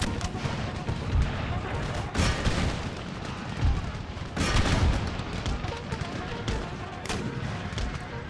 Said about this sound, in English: Those mortars are just firing right over our own lines.